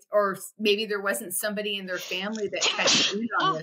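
A single sneeze cuts into a conversation, loud and close between stretches of speech from people talking in the clip.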